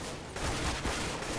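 Counter-Strike: Global Offensive gunfire rattles in dense, continuous bursts, loud and close, with a rough, noisy game mix and no talking.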